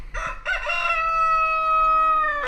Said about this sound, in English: The chickens are crazy today.